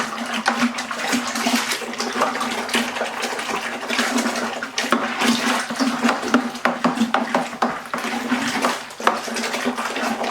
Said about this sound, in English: Now give it a good old stir.